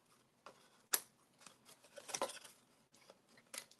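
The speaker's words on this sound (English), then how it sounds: "And I'm just trimming my edges" Two-tone cardstock edges being trimmed with scissors, a series of sharp, close snips and crisp paper rustles in a quiet room, with one loud cut near the start and no talking.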